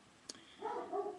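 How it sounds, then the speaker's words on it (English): A dog barks faintly in the background, a short tick followed by a couple of soft, tonal yips and whines. "That's my dog Blue barking in the background."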